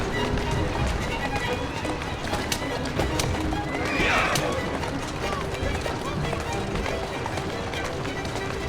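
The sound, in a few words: horse neighing and galloping in a video game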